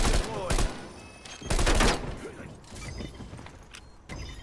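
Bursts of gunfire from the video game Call of Duty Black Ops Cold War come in short loud volleys, one around the start and another a second later, with quieter mechanical clatter and game effects between them.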